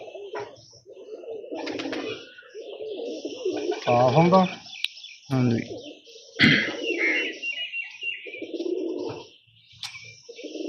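Pigeons coo in short, soft bursts at close range, with a pair kept together in a home loft; someone talks over and between the calls.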